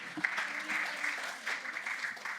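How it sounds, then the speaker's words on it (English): Audience applause at a start-up day event, moderate clapping from a smallish crowd that rises and dips in uneven waves, with faint voices mixed in. "Let's keep the applause going."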